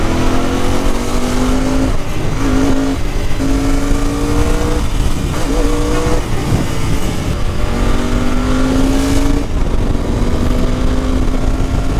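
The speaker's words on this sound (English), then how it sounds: "all I'm trying to do is to check the acceleration and the pull that we feel in different RPMs." A Royal Enfield Continental GT 650 motorcycle, BS6 model, pulls hard through its revs, its engine note climbing in repeated rising sweeps and shifting between gears, loud and steady with constant wind rush throughout.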